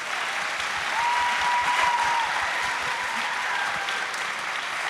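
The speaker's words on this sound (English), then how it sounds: "could we all please give a big round of applause to our panelists?" An audience at a summer program closing ceremony applauds steadily, dense clapping filling the space at an even volume from start to finish.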